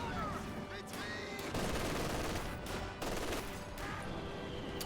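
Captured machine gun firing in Company of Heroes 2, with dense, continuous bursts of gunfire in a loud battle mix, overlapping other explosive shots and faint battlefield noise.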